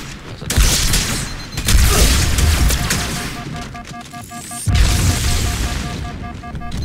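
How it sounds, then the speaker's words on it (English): Plasma grenade explosions in the Halo 2 Anniversary campaign burst in quick succession, loud and close, with a heavy boom at the start and another around the five-second mark amid crackling gunfire and electronic tones. "It just stood in the middle of a plasma explosion."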